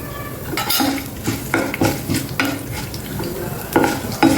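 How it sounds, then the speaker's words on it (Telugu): Crushed shallots and a dried red chilli fry in a pan for a brinjal raw rasam, with repeated stirring scrapes and utensil clinks over a steady close sizzle. "ఇవి కొంచెం వేగిన తర్వాత కచ్చాపచ్చికి దంచుకున్న ఒక 5-6 చిన్నులపాయలు వేసేయండి"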